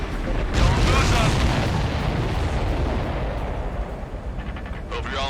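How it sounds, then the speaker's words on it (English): A missile strikes a supply ship in the Ace Combat 7 video game, setting off a loud, sustained blast with a booming low rumble that swells early, then rolls on and slowly fades, with a voice briefly present. "The missile hit the supply ship dead on."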